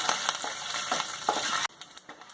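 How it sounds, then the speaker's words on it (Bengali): Chopped coconut fries in hot oil in a pan, a steady crackling sizzle with scattered stirring scrapes, close up and fairly quiet, ending abruptly. "নারকেলগুলো একটু হালকা ব্রাউন করে ভেজে নিতে হবে।"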